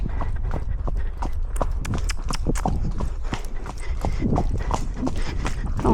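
A horse being ridden during final preparation for an endurance ride gives steady, rhythmic hoofbeats, close and continuous throughout, with occasional faint background sounds.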